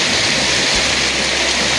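Steady rain pours down outdoors in a continuous, even hiss, close and fairly loud for the whole stretch, with no voices over it.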